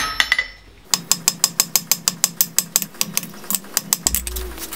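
A hammer strikes hot metal while a hotdog fork is tapered and flattened, giving a fast, even run of sharp ringing blows, close and loud, that ends in a duller thud.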